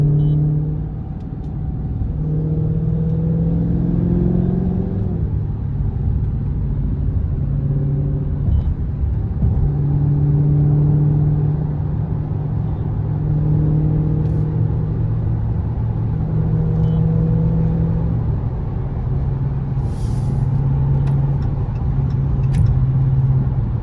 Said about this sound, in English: I'm gonna hit the highway and show y'all what it's like driving on the highway